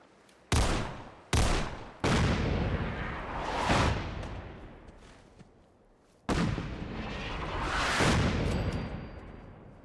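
Artillery barrage in the video game Fallout 4: a series of heavy, booming blasts. Two sharp impacts open it, followed by a third, then long rumbling roars. Another big explosion crashes in later and rolls on with a sustained low rumble.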